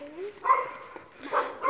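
Dogs up on a rooftop near an old ruined prison give a few distant yips and short barks, fairly faint and spread over a couple of seconds, with some outdoor background noise.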